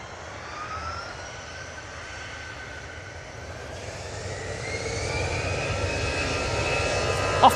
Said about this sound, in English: Off to Jersey with this EasyJet.